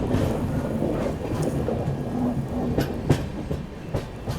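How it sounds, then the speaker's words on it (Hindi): Purushottam Express rolling on after leaving Cuttack Junction, a steady loud rumble of the moving train with occasional sharper clacks and knocks from the track, no voices. "गाड़ी अपनी जो है कटक जंक्शन से डिपार्ट कर चुकी है।"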